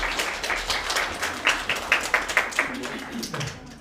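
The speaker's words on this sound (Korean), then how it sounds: "큰 박수로 부탁드리겠습니다" An audience at a job fair lecture bursts into applause, many hands clapping in a dense, lively patter that swells briefly and then tapers off.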